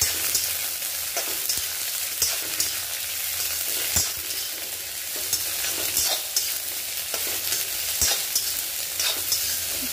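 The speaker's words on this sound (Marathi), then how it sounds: "भेंडी अशा पद्धतीने परतायची जेणेकरून ती चिकट नाही झाली पाहिजे।" Okra (bhendi) stir-fries in a pan for masala bhendi, a steady loud sizzle with scraping stirs of the spatula throughout.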